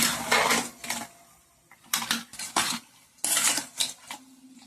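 Chicken pieces mixed with salt and chilli powder in a bowl, giving bursts of clinking and scraping against the bowl that come in irregular close-up clusters, separated by brief quiet gaps.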